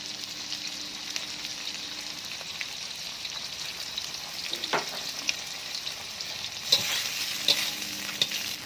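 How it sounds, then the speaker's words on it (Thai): Shrimp and garlic stir-fried in a pan, a steady low sizzle with scraping stir strokes and a few sharper crackles and spatters toward the end, no voices. "ผัดกุ้งกับกระเทียมนะครับ ให้เข้ากันเริ่มหอมแบบเริ่มส่งกลิ่นหอมแล้วนะครับ"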